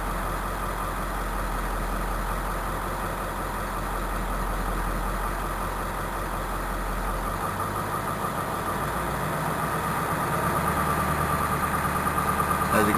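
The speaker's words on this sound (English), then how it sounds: "So 15 seconds from now, the idle RPM will climb up to 1100 RPM." A car engine idles steadily and close by with an automatic idle-up system, its low hum slowly climbing toward 1100 RPM, loud and continuous with no talking.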